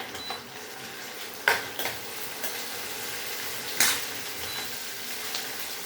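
Onions fry in a hot pan with a soft, steady sizzle, broken by a few sharp scraping clinks of a spoon stirring against the metal.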